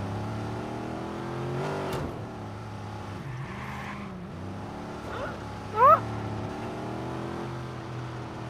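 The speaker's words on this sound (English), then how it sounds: "The engine is overheating now," Overheating car engine in the video game Watch Dogs, revving steadily with a low droning hum that rises and falls, then a brief louder whine near the end.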